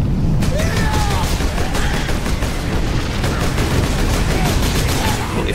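Rapid bolt pistol gunfire from the Warhammer 40K Space Marine video game, a dense, loud, continuous fusillade of overlapping shots and booms with faint voices mixed underneath.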